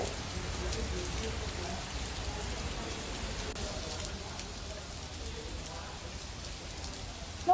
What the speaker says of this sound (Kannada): ಕಳೆದ ಒಂದು ವಾರದಿಂದ ಬಿಡುವು ಕೊಟ್ಟಿದ್ದ ಮಳೆರಾಯ ಈಗ ಮತ್ತೆ ನಿನ್ನೆಯಿಂದ ಅಬ್ಬರಿಸೋದಕ್ಕೆ ಶುರು ಮಾಡಿದ್ದಾನೆ